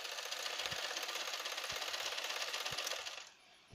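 A sewing machine stitches over the elastic of a fitted sheet covered with a piece of cloth, a close, steady, fast mechanical whirr with a few faint knocks, running for about three seconds before stopping.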